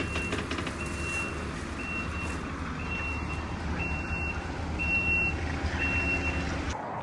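A delivery wagon reversing to unload calcifer, its reversing beeper sounding at a regular pulse about once a second over a low, steady diesel engine rumble and outdoor background noise.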